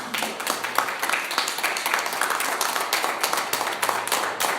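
A congregation at a church service bursts into sustained applause, dense rapid clapping from many hands filling the room at a fairly loud level, with no voices standing out.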